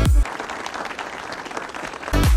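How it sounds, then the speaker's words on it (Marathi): A small group of people applauding at a farmhouse, a short burst of brisk clapping between two loud bumps at the start and end. "त्याच्यासाठी टाळ्या वाजवा जोरदार."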